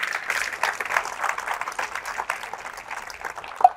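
A church congregation applauds together, a scattered, moderately faint patter of clapping hands that rises and falls unevenly throughout, with one sharper clap near the end.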